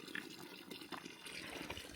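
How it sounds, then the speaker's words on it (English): Water from a mountain spring trickles and splashes as it is collected for filtering, a faint, continuous burbling with small irregular splashes close by. "We're here at a spring getting some water to filter"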